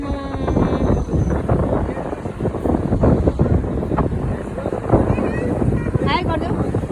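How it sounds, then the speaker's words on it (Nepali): Strong, cold wind buffets the microphone during an evening walk along a seaside corniche, a loud, gusting rumble that runs throughout while people talk. "साह्रै हावा चलेछ हौ"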